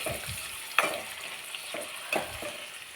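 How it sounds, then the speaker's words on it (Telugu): Onions sizzle in hot oil for a bitter gourd tempering, with a few sharp scrapes of a spoon stirring the pan, steady and close with no talking. "ఇలా తాలింపు వేసిన తర్వాత ఇట్లా తిప్పుకుంటూ ఉండాలి"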